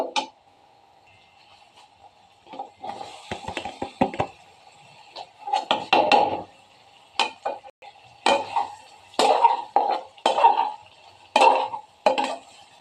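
Irregular clinks and scrapes of a utensil against a pan as pasta is added and stirred, in short bursts with pauses between, close and fairly loud, no talking.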